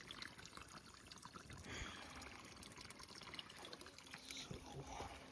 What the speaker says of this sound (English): the water's still flowing, still good